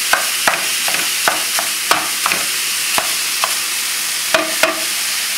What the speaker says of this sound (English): we'll sweat up the vegetables a little bit in the pan